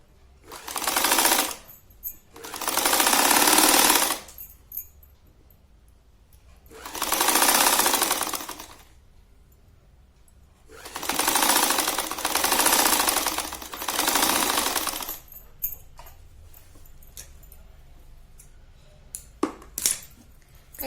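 A sewing machine stitches a hook strip onto a 36-size katori blouse in loud motor bursts of a few seconds each, separated by quiet pauses, close by, with faint handling clicks near the end.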